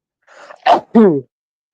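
A single sneeze preceded by a short sharp intake of breath, close and loud, ending in a voiced burst.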